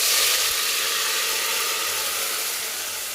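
Onions frying in hot oil as masala paste is added to the pan for a Maharashtra-style mutton rassa, a loud, steady sizzle and hiss that fades slightly toward the end, with no talk.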